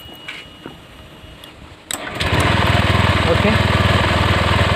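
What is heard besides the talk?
Honda Vario 125 scooter engine running after spark plug cleaning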